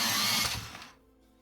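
A colored pencil, a light green, whirs briefly in a sharpener, a loud close grinding buzz that fades out after about a second, with no talking.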